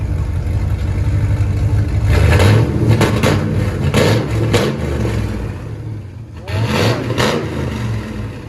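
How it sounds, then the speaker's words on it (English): A 1993 Ford F150 Lightning's 5.8L Windsor V8 with true dual straight pipes rumbles loudly at idle and then revs several times in quick bursts, with a deep, throaty exhaust note up close. "So this is what it sounds like now."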